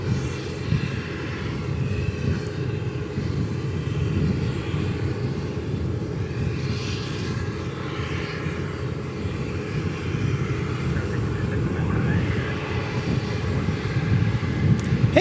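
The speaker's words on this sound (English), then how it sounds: "there's our Lufthansa A340 taxiing" A Lufthansa Airbus A340 airliner taxiing at DFW Airport, its engines a steady, loud, continuous rumble and whine that holds throughout with no talk.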